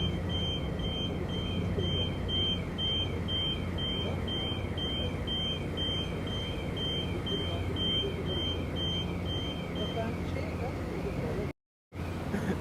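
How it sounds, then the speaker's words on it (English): Repeated short electronic beeps sound in an even, quick series aboard a ferry to the Isle of Skye in Scotland, moderately loud over a steady engine hum, with a brief dropout near the end. "A lot of beeps here."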